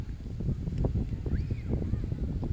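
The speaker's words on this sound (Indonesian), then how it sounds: "Angin dia terlampau kuat ni." Strong wind buffets a small SJRC F11s 4K drone flying over the sea near Teluk Batik, producing steady low rumbling gusts with no speech.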